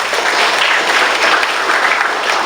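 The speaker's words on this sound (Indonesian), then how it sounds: "Kita berikan tepuk tangan dulu buat BKKBN" A crowd at a parliamentary constituency visit applauds loudly and steadily, a dense, even wash of many hands clapping throughout.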